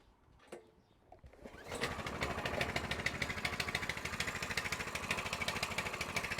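A Coleman BT200X mini bike engine cold-starts with the choke on, a couple of faint clicks giving way to a steady, buzzing idle that runs rapidly and evenly at close range.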